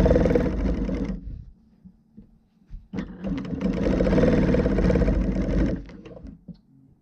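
Handiquilter longarm quilting machine stitching along a ruler, a steady mechanical whir in two loud runs, about a second at the start and then a longer three-second stretch, with a quiet pause between them and no talk.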